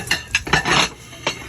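Onion and garlic sautéing in a Salad Master pot, with a spoon scraping and clinking against the metal in a few short bursts, close and moderately loud.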